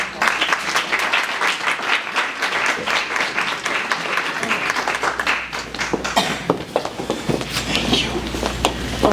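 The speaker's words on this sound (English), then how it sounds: "A round of applause for Ms. White." An audience at an event about opioid addiction applauds a speaker, dense clapping close and fairly loud, with a few sharper individual claps and some crowd murmur in the mix.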